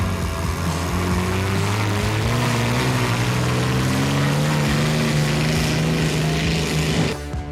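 A tractor fitted with a Soviet T-55 tank V12 diesel engine drones loud and close, a steady heavy growling roar that holds throughout and cuts off abruptly at the very end.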